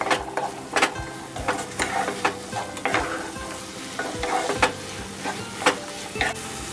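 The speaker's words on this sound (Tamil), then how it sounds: "இப்போ இதை நல்லா நம்ம மிக்ஸ் பண்ணிட்டு இப்போ கொண்டக்கடலையை வந்து நம்ம இதோட சேர்த்து போடலாம்." Black chickpeas are stirred into spicy masala in a pan, a spoon scraping and clacking in irregular strokes over a soft steady sizzle, close and fairly quiet.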